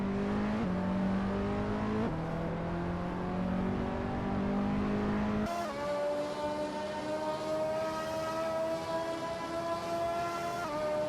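Hypercar engines in a racing video game, a sustained whining roar with upshifts stepping the pitch down repeatedly, loud and continuous, with no voices.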